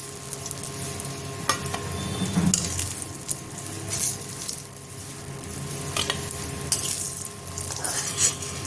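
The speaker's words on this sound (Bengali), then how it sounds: "বেগুনগুলো ভাজা হয়ে গেছে" Eggplant slices fry in hot oil with a soft, continuous sizzle, broken by a few utensil clinks and stirring scrapes as the pieces are turned and lifted.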